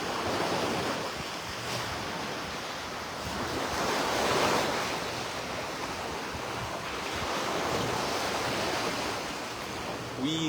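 Surf washing onto a beach, a steady broadband roar of breaking waves with gentle swells in intensity, mixed with wind buffeting the microphone.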